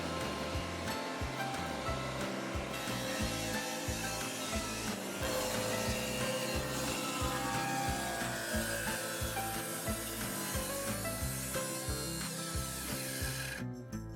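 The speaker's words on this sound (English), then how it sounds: "I installed my dado stack and cut a slot for the back of the shelf" A power saw runs continuously, loud and close, with a dense grinding whine as the blade cuts through wood, stopping abruptly at the very end.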